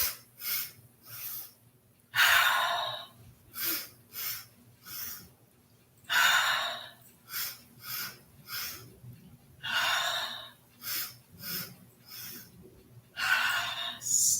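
Yoga breath of joy breathing: sets of three quick, sharp nasal inhales followed by a long forceful exhale, repeated in a steady rhythm, close and fairly loud with no talking.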